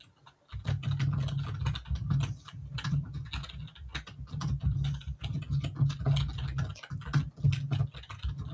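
A loud computer keyboard is typed on in rapid, uneven bursts of clacking keystrokes, close and clear, with brief pauses between flurries.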